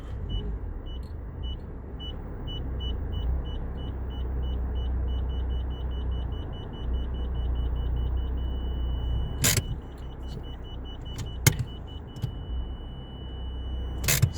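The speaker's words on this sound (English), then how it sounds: "So when you get the constant beep like that" A Nissan Juke's parking sensor sounds a steady run of short, clear electronic beeps that merge into one unbroken tone as the car gets close, over a low engine hum with a few clicks.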